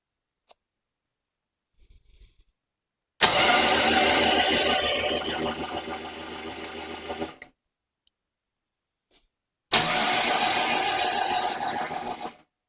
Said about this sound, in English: I'm going to risk a quick spin over on the starter.